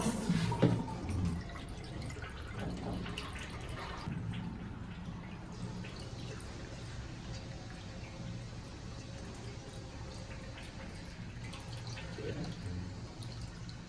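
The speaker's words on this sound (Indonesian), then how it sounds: "kita coba lagi untuk flash" Water running and dripping in a urinal whose flush will not shut off, a steady low trickle with a splashy surge near the start and a voice murmuring over it.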